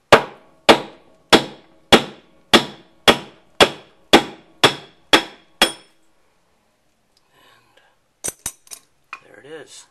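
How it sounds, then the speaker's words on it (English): A dozen sharp metallic hammer blows ring out in a steady rhythm, pounding out the shaft and seal of a Whirlpool Cabrio washing machine during bearing repair, then stop; a few faint clinks and a brief scrape follow. "I take a hammer and start to pound out the shaft and the seal."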